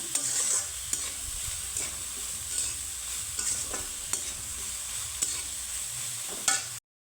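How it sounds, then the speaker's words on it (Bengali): Boiled soybeans and green chili fry in a hot pan for soya rice, with a constant close sizzle and regular stirring scrapes roughly every second, without speech, before the sound cuts off abruptly. "তো এই পর্যায়ে আমি দিয়ে দিব সিদ্ধ করা সয়াবিন তো সয়াবিনের সাথে ভেজে নেব"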